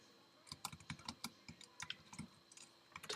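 Code being typed on a computer keyboard, a quick, uneven run of crisp key clicks, close and fairly quiet, with no talking.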